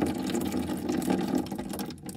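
Liquid coolant drains steadily from the top valve of a Yanmar diesel engine during a flush, a continuous close splashing pour with no voices.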